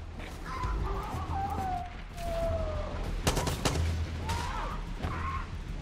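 Bursts of Far Cry 6 gunfire crackle in a sustained volley, with whistling bird-like calls drifting over a steady low rumble.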